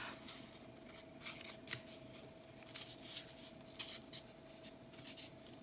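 Paper strip being folded into pleats for a cockade, giving soft, close crinkles and light rustles in short bursts under a quiet background.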